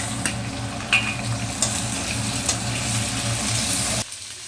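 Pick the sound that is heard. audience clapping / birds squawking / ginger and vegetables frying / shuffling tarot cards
ginger and vegetables frying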